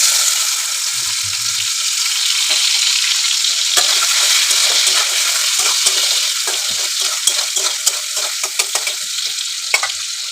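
Chopped tomato frying in hot oil with green chilli for a fish curry, a loud close sizzle with rapid scraping and clinking of a spatula against the pan, the stirring growing busier toward the end.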